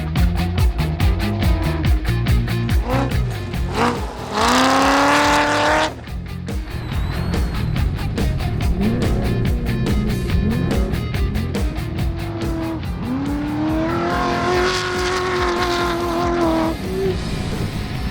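A suburban barn-find muscle car is driven hard and cornered. The loud engine roars steadily, rising and falling as the revs climb through the gears, and the tyres squeal during two sustained turns. The car is close and continuous throughout, with no talk.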